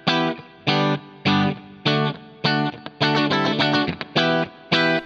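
Electric guitar played on the clean channel of an amplifier, with the bridge and middle pickups combined, strummed in short repeated chord stabs with gaps between them, close and moderately loud, with no talking.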